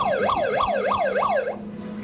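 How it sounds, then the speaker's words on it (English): A loud emergency siren wails in rapid rising and falling sweeps, about four quick cycles close by before it drops away, with no speech over it. "that siren gets really annoying"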